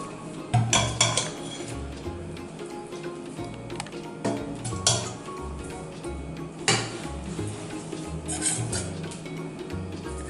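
Chicken pieces are spooned into a biryani pot with repeated metallic clinks and scrapes of a utensil against the pot, several sharp knocks spread over ten seconds with a faint sizzle underneath.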